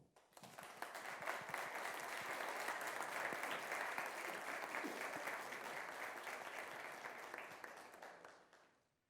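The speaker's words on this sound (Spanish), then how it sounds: "Por favor, pido un aplauso." Audience applause at a Mexico City public event on transparency, data protection and accountability: dense, steady clapping from a sizable crowd, rising quickly, holding for about eight seconds, then tapering off.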